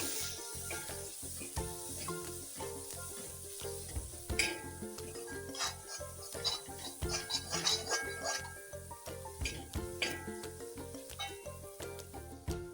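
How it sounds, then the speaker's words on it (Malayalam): Chili powder and spices for kadai paneer roasted in a pan on a low flame, with a steady close sizzle and busy, uneven stirring scrapes and clinks of a utensil on metal throughout. "ലോ ഫ്ലെയിമിൽ ഒരു 3-4 മിനിറ്റ് നേരം നമ്മൾ ഇളക്കിയെടുത്ത് ഈ മുളക് പൊടിയുടെയും എല്ലാത്തിൻ്റെയും പച്ചമണം മാറി"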